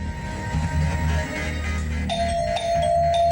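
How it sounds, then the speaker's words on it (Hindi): A flat's doorbell ringing over and over in a Crime Patrol TV drama scene: bright electronic chimes sound again and again, close and clear, over a low background hum. "अरे इतनी घंटी क्यों बजा रहे हो भाई?"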